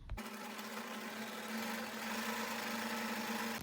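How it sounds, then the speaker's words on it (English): A sewing machine runs steadily, stitching a centered tuck in fabric, its motor humming in a continuous, even drone close by for the whole stretch with no talking. "And then we are going to sew this one first."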